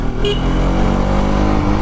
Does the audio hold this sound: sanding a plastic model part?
no